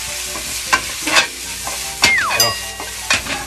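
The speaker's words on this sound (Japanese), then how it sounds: "お野菜はねもう軽く炒めたぐらいでいいと思いますよ" Vegetables stir-fried for Amakusa champon sizzle steadily in a pan, with scraping stirs and clattering bursts of utensil on metal throughout.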